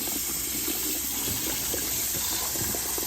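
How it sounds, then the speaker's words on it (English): Steady running tap water splashing and rinsing boiled eggs in cold water, a continuous close hiss with faint clatter underneath, no voices. "we're just going to rinse them in some cold water"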